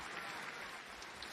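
A wrestling crowd in Toronto cheering and applauding, a dense, steady roar from a distance with no single voice standing out.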